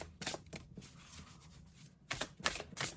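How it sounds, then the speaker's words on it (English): Tarot cards being shuffled and pulled: papery riffling in quick bursts at the start and again near the end, with softer handling between, close and fairly quiet, no talking. "we're gonna pull 3 final cards from here"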